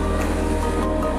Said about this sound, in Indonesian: Ombaknya tinggi sekali.